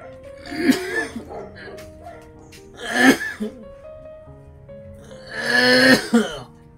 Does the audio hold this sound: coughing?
yes